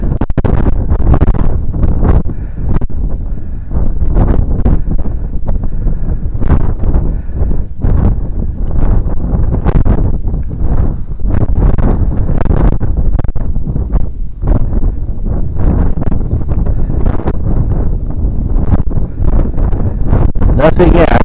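Strong wind buffets the microphone on a frozen lake during ice fishing, a loud, continuous roar with gusty surges and rumbling low-end buffeting throughout, no other sounds standing out.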